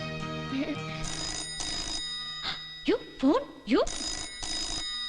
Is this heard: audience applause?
no